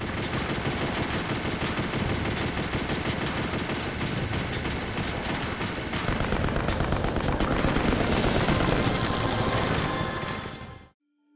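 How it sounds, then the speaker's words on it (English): Rapid machine-gun fire aimed at helicopters in the PS1 video game Chase the Express, a dense continuous rattle of shots over engine drone, swelling louder midway before cutting off abruptly. "a machine gun segment allowing you to down multiple choppers to clear the air"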